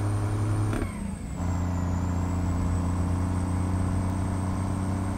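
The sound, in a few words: Optimus Prime-styled truck shifting gears without clutch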